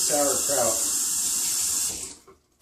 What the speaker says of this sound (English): I'm going to rinse the extra salt I put on top of this guy off